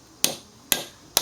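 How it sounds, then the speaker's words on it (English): Three sharp metallic hammer whacks on a Dana 44 hub during teardown, evenly spaced about half a second apart, close and loud, each ringing briefly before fading, with no talk. "Just gonna find a good spot and give her whacks."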